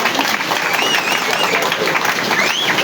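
A congregation at a funeral service claps together in warm appreciation, a dense, sustained round of applause with a voice rising over it and faint whistle-like tones drifting through.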